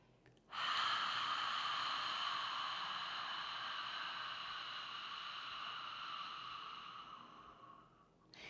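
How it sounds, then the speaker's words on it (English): A long, steady breathy exhale with a soft hiss, like fogging up a mirror, begins sharply and holds close and clear for several seconds before fading, with no talking. "make that little fogging up the mirror sound on our exhale"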